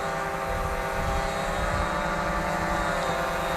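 An Upair One Plus drone flying back to its home point after a battery problem, giving a steady, continuous motor and propeller drone with a constant tonal hum and no breaks.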